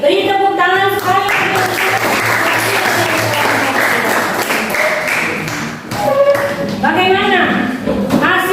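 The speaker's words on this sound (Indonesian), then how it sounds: "beri tepuk tangan sekali" Classroom of students clapping together in a loud burst of applause, sustained for several seconds with a few voices and sharp claps mixed in near the end.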